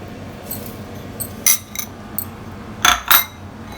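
Several light metallic clinks of a teaspoon against a container as heaped spoonfuls of cumin (jeera) are added for a jal jeera drink, sharp isolated taps spread out over a few seconds with quiet pauses between.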